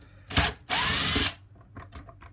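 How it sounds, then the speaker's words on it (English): A power drill whirs in a short burst and then a longer steady run as it backs a screw out of wood, followed by faint small clicks and handling noise. "I'm going to take this screw out just to show you."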